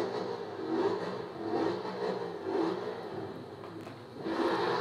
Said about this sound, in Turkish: Şöyle biraz ara gaz verelim bakalım.